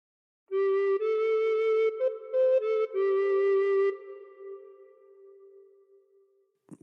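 A recorder plays a phrase of Amazing Grace with several breathy notes moving up and down before settling on a long held tone that fades away, close and alone with no voices.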